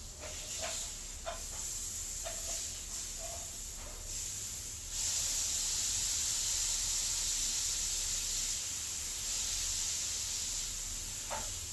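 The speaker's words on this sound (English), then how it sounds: "That sizzling sounds so nice." Continuous hissing sizzle of food cooking in a pan, growing louder midway, with a few faint clinks early on.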